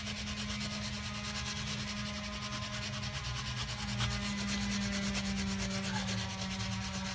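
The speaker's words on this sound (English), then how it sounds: "I'm putting a decent amount of pressure with this red pad." A red abrasive pad scrubbed firmly over wood, a steady close rasping rub with fast back-and-forth strokes that holds without a break, no voices.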